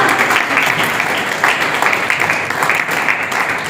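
Steady audience applause at a Hindi poetry gathering honouring a guest, dense continuous clapping filling the room from start to finish at an even level.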